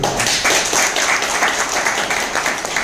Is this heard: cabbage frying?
no